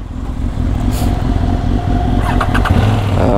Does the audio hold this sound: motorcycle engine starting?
yes